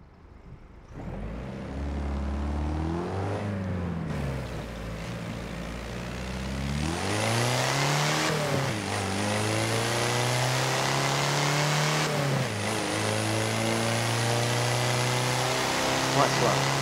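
Virtual car in Forza Horizon 4, its engine idling and then revving as it drives, with rising and falling pitch sweeps and steady mid-range drone across the run, a voice talking over it.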